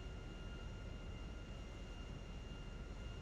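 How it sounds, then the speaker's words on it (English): A low-flying airplane in the GTA 5 video game drones with a steady, even engine roar that fills the whole stretch without a break. "I can hear your airplane because it's super realistic"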